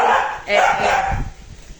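Dogs bark in the background of a Portuguese church sermon, their yelps partly buried under a preacher's steady talking for a couple of seconds.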